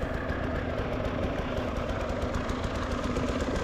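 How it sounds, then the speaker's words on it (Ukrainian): A motorcycle engine runs rough and loud up close on an enduro cross-country race course in Ukraine, a continuous rumbling with uneven throttle blips. "зараз ви можете чути. Ем, незрозумілу прогазовку мого мотоцикла і мене."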